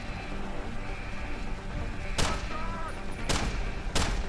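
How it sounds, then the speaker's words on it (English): Three sharp gunshots go off at uneven intervals in the 2011 PC game Deus Ex: Human Revolution. Each one is a loud, sudden crack over a steady hum of background game ambience. "we can shoot through some objects, but not this one, apparently"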